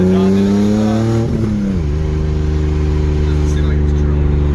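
A BMW E30 with a swapped S52 six-cylinder and a muffler-only exhaust revs up loudly close by, its note climbing and then dropping back to a steady drone, with a voice talking over it.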